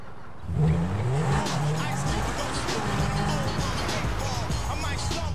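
A car in a video game pulls up and revs, its engine rising and falling in loud waves with some tire noise, while a voice talks over the steady motor roar.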